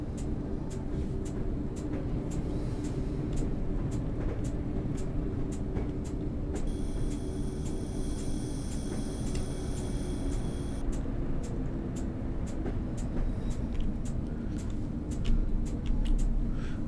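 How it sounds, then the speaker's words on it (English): A Class 101 diesel multiple unit in Train Simulator coasts into Bishop Auckland station, a steady low rumble and wheel noise with faint rhythmic clicks over the rails, a thin high whine entering midway, no talk. "we're just going to slowly coast into Bishop Auckland Station"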